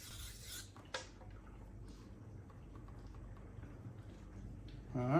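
A kitchen knife being sharpened by hand, with faint, quiet rasping strokes of steel across an abrasive that come and go in a soft, irregular rhythm.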